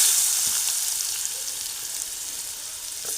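Chopped onion hits hot oil with turmeric in a pan for Konkan-style kulith amti, giving a steady, close sizzle and crackle that eases slightly over a few seconds.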